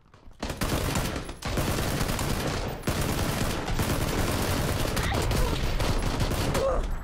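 Gunfire in a video game played on a livestream: loud, dense automatic bursts and rapid shots that run almost continuously, with only brief breaks.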